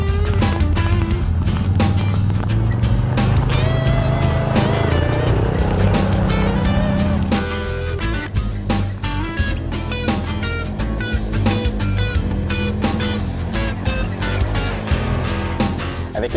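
A 2014 Can-Am Outlander X MR 1000 ATV drives with its engine roaring loud and continuous, mixed with heavy music over the whole stretch.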